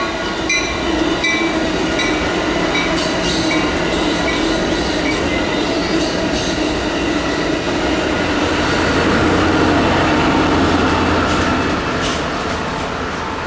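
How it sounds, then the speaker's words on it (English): Northbound Amtrak 765, an early-morning daylight train running along the California beach, rolls past as a loud, continuous roar of rail noise with faint wheel squeal and clatter that swells slightly near the middle and stays dense throughout, with no talking. "so did the first daylight train, northbound Amtrak 765"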